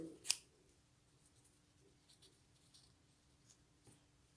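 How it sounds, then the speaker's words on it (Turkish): Scissors cut down the middle of a square of craft material for a hair accessory, one sharp close snip followed by faint soft rustling and handling, quiet and with no talk. "Şöyle ortadan kesiyorum."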